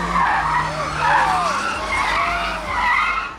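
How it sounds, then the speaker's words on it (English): Tires of a new Kia screech and skid loudly as the car drives in, with wavering squeals rising and falling over steady engine and road noise for several seconds. "the screeching tires of a fresh Kia can be heard driving into the gardens"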